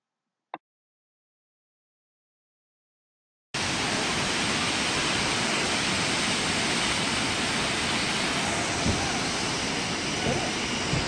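After a brief click and a few seconds of silence, the steady roar of Looking Glass Falls in North Carolina cuts in and continues unbroken, loud and close.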